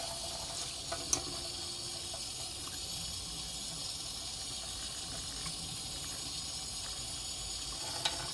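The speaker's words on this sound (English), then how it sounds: "I am rinsing in the sink though," Cold tap water runs steadily into a stainless steel sink while blue-dyed human hair extensions are rinsed. It makes a continuous close hiss and splash throughout, with a couple of faint clinks and no talking.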